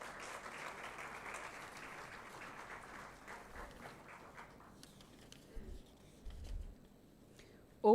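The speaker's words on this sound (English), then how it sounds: "Thank you, Saksham, and a big round of applause to Saksham." Audience applause at a Day of the Seafarer ceremony, moderately distant and fading over several seconds into quieter room noise with faint murmuring.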